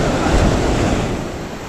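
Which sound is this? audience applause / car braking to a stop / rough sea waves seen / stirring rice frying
rough sea waves seen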